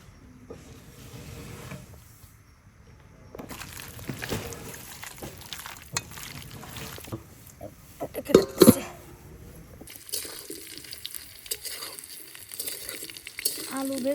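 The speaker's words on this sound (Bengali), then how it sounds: "আলু ভেজে নিচ্ছি।" Potatoes fry in hot oil in a home kitchen while dal with radish is being cooked, giving a steady low sizzle with occasional stirring clatter and a brief clank, fairly close and continuous.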